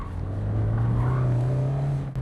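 A fourth-generation Mazda MX-5 ND roadster driving, its engine holding a loud, steady droning note from inside the cabin that rises slightly in pitch, then briefly drops off near the end.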